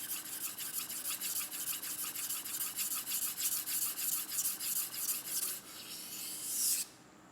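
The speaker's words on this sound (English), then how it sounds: "So here I'm sharpening the base, the center," A knife blade being sharpened on a whetstone, working the base and center, gives a close, rhythmic series of steady grinding strokes that ends with a short scrape, with no talking.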